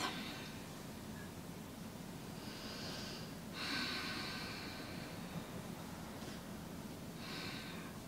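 Slow breathing during a beginner home yoga workout, several soft breathy exhalations spaced a few seconds apart over a steady low hum, close and faint, no talk.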